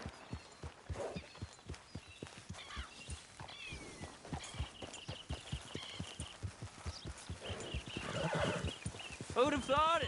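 Galloping horse hooves beat in a steady rapid rhythm in Red Dead Redemption 2, with a whinny rising near the end over game ambience; a voice talks across the ride.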